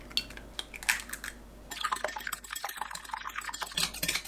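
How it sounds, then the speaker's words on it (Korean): Eggs are beaten briskly in a bowl for king oyster mushroom pancakes, quick light clicking and tapping strokes with a faint wet sloshing, close and fairly quiet. "계란을 풀어주세요."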